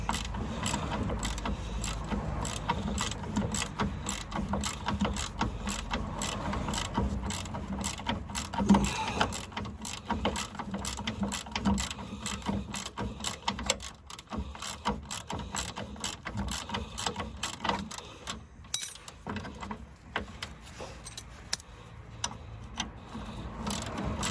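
Steady mechanical ratcheting clicks run continuously while a steering damper nut is tightened on a Land Rover Discovery 2 TD5, moderately loud and close, with no talking.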